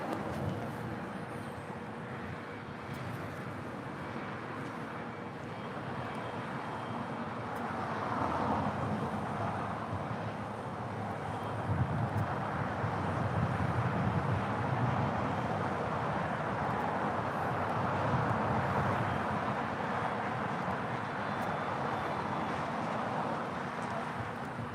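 A JetBlue airliner takes off from runway 25 Right at Los Angeles International Airport, heard as a broad, distant engine roar that builds gradually and holds as a steady rumble.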